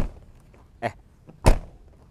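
A BMW E30 318i door is slammed shut: two separate thuds, a lighter knock followed by a heavier, louder slam, close by with quiet in between.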